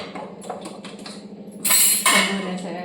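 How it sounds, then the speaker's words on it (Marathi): A metal cooking pot is set aside on a kitchen stove in the middle of making palak paneer: light clinks and scrapes, then a louder metallic clatter and rattle close by. "आता हे पातेलं आपण बाजूला ठेवूया थोडा वेळ."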